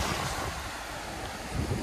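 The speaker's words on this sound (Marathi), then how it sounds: "समुद्र थोडा रफ आहे इकडे" Rough sea waves off the Faroe Islands roar in a steady, dense wash, with wind buffeting the microphone throughout.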